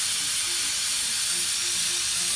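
A pressure cooker cooking vegetable kurma, Kerala style, releases steam through its whistle in a loud, continuous close hiss with no talking.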